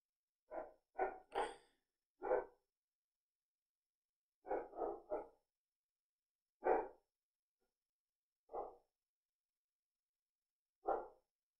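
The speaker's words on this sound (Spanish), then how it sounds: "En esa parte van a escuchar a mi perro" A pet dog barks sharply in short separate bursts, sometimes in quick pairs or triplets and sometimes alone, against near silence, about a dozen barks over eleven seconds.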